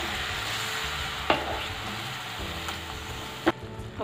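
Masala for chhole roasts in a pan with a soft continuous sizzle, broken by two sharp clicks or utensil knocks; no one talks.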